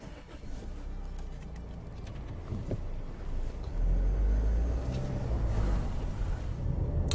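A Range Rover Evoque SUV, built on Freelander underpinnings, drives along an open road with a steady low engine and tyre rumble that swells slightly partway through. The sound is close and continuous, with no talking.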